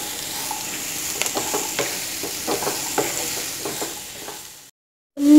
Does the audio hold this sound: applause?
no